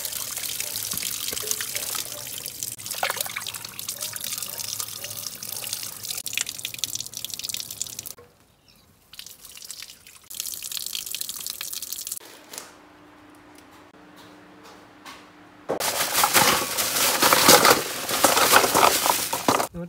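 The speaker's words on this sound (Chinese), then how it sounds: "买了10个扇贝，现在把它清洗一下。" Scallops are washed under a running kitchen tap, with splashing water, drips and crinkling handling noises, a short quiet gap, then a louder gush of running water at the end.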